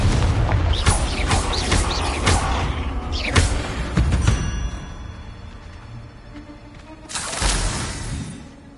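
Explosive spell blasts from Confringo in the game Hogwarts Legacy, a string of loud booming impacts with crackling debris in the first half, a quieter rumbling stretch, then a final sharp burst near the end.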